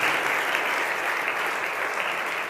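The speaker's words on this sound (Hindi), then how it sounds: "तो मैं चाहूँगा एक बार सर के लिए जो है वो जोरदार तालियां आप करें।" Steady, dense audience applause for an honoured guest at a police recruitment motivational talk, loud and continuous throughout with no voices standing out.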